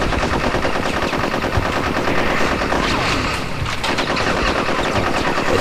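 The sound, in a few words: gunfire in the video game Conker's Bad Fur Day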